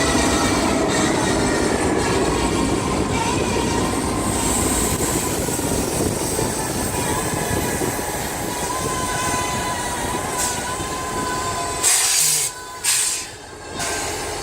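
CSX locomotive and train cars being switched on the track, heard as a loud, continuous rumble of rolling wagons with hissing air and faint wheel squeal, easing near the end.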